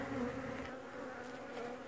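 Honeybees buzz around the top box of a hive, a close, steady drone of many wings with slight wavering in pitch throughout.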